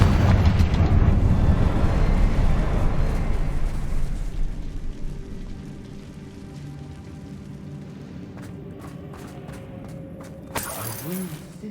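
Spell blasts from Hogwarts Legacy combat in a mine, with a loud burst of rumbling explosions at the start that fades into a lower, steady din, followed by a sharp bright crack near the end.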